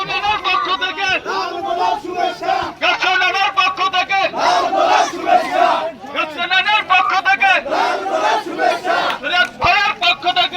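Dense crowd of voices shouting slogans in unison, loud and continuous with rhythmic rising surges, close and overlapping.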